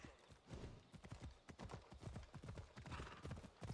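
Horse hooves clip-clop in a steady, close rhythm in the video game Assassin's Creed Odyssey, with a faint whinny and no talking.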